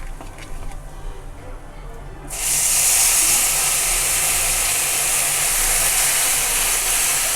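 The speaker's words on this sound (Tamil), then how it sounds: "இப்போ கடுகு நல்லா வெடிக்குது." Mustard seeds crackle in hot oil for an amla pickle. A soft background gives way to a sudden, loud, steady sizzle that holds to the end, with a voice speaking underneath.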